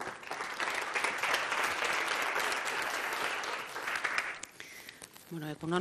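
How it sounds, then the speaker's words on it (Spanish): Audience at a Barcelona housing conference applauds someone with dense, sustained clapping that fades near the end, followed by a brief voice starting to speak. "Un aplauso para ella."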